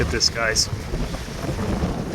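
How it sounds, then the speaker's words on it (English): Wind blowing over a shanty boat on a calm lake, a steady low buffeting rumble against the microphone, with someone briefly speaking over it at the start. "You can hear the wind, but it's not hitting the water, so no waves"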